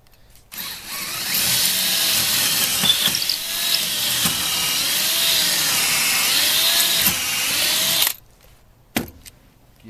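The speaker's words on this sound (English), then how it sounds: "Another drill all set to go with a 3/8-inch bit." A power drill fitted with a 3/8-inch bit bores during a utility trailer build, a loud continuous whine running for about eight seconds before cutting off, followed by a short second burst.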